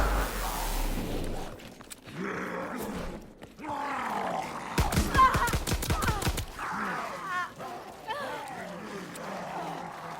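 Rapid bursts of gunfire shooting zombies in Call of Duty WWII's Final Reich zombies mode, a sharp automatic volley cutting through game noise and growls, with a player talking around it.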